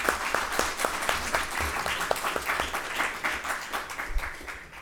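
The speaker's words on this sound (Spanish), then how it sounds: "un aplauso, por favor" An audience at a tribute event breaks into sustained applause, dense rhythmic clapping from many hands filling the room at moderate distance, steady for several seconds.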